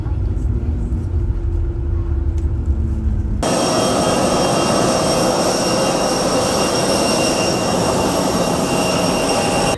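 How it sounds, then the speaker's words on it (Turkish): Jet airliner engines spool up and roar at takeoff, a loud broadband rumble kicking in after a few seconds of quieter ambience and holding steady and close for the rest of the clip. "Şimdi motorları alevlendirdi. Oha, çıkan sese bak."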